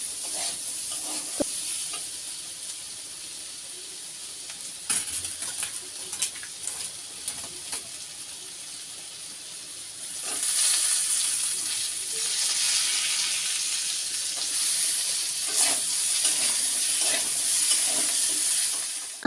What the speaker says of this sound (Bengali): তেলের মধ্যে আর দিয়ে একটু লবণ হলুদ দিয়ে ভালো করে ঢাকা দিয়ে ভেজে নেবো